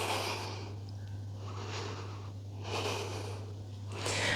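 Deep, slow breathing in and out during a yoga flow session, heard close up as several long airy inhales and exhales in a steady rhythm over a constant low electrical hum, with no talking.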